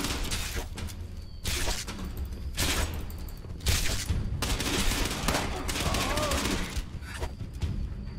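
Sustained bursts of bullet fire in Fallout 76, loud and dense, with short gaps between volleys and a few sharp impacts mixed in, while a player's voice murmurs underneath.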